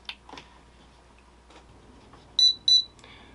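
Two short, bright electronic beeps from a Turnigy Plush-32 brushless ESC as it powers up for throttle calibration, loud and close against a quiet bench, preceded by faint handling clicks.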